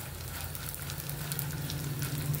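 Edible gum roasts in hot ghee for ladoos, giving a steady, close sizzle and frying crackle with no voices.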